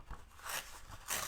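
Paper being torn by hand for a Christmas 2023 scrapbooking layout, a few short rough ripping bursts close up and fairly quiet, with no one speaking.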